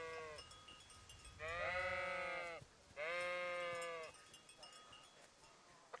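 Sheep in the video game Kingdom Come: Deliverance bleat twice in long wavering calls, fairly close and clear over a quiet outdoor background.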